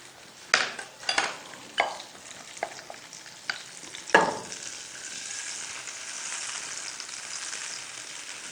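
An egg fries in a pan for a veggie egg sandwich, with a steady sizzle and a few sharp utensil clicks and scrapes near the start before the frying hiss settles evenly.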